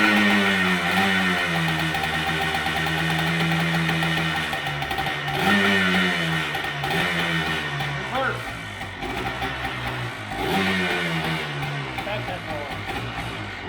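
The cold engine of a Scag Windstorm blower, run without the choke, drones loudly and continuously, its pitch climbing and sagging through several uneven revs.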